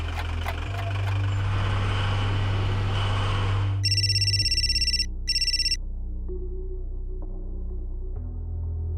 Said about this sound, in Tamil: மீண்டும் ஒரு அழைப்பு வருது